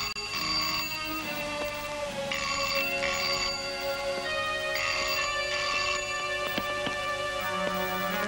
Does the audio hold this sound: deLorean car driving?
no